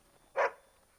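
A single short dog bark from the video game Dragon Age: Origins, clear and alone against a quiet background.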